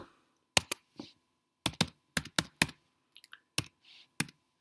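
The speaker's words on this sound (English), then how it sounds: "we're going to go ahead and type in there" Someone types on a computer keyboard in a quiet room: sparse, close keystrokes land in small clusters with short pauses between them, and no one speaks.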